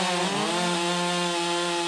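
A chainsaw with a short bar cuts wood for slab cleanup beside a sawmill, a loud, steady, high engine whine that stays close and continuous with no talk over it.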